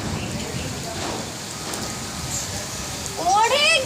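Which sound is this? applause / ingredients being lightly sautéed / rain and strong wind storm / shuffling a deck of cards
rain and strong wind storm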